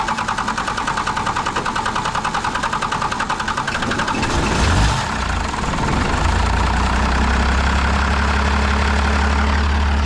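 A truck diesel engine that runs like a 12 valve rattles loudly and close, a steady knocking idle that shifts partway through into a deeper, smoother low drone, with no talking.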